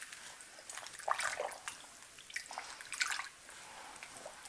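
Water drips and trickles softly as a shirt goes back into a green dye bath during ombre dip dyeing, with a few brighter splashy drips standing out over a faint steady trickle.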